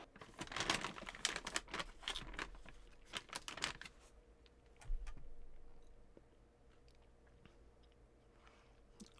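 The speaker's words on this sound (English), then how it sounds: "if you hear me typing" Keys clack on a computer keyboard in a dense, irregular burst of close clicks for a few seconds, then only scattered faint taps over quiet room tone.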